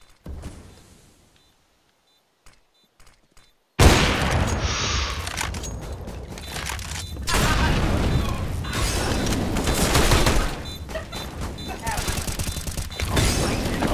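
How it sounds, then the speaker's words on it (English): Video game gunfire during an Inferno scrimmage match: after a quiet start, a sudden loud burst of rapid shots and booms erupts and continues densely, with players talking over it. "Why was I getting shot from that?"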